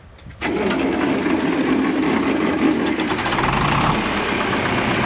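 A John Deere 3020 diesel tractor engine at an auction starts abruptly and then idles steadily with a close, loud knocking rumble. The idle continues unbroken to the end.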